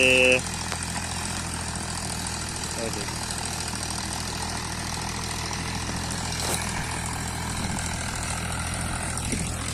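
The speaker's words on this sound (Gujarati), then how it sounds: "ખાતરમાં ખાતર ઉડવાનું ચાલુ છે." A farm machine spreading fertilizer over a field, a steady droning engine hum with a whooshing, blowing rush, heard at moderate distance with occasional faint knocks.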